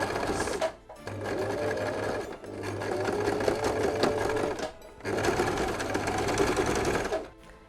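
A sewing machine stitches the seam of a double elf stocking in green thread, a loud steady mechanical whir running in three bursts separated by short pauses.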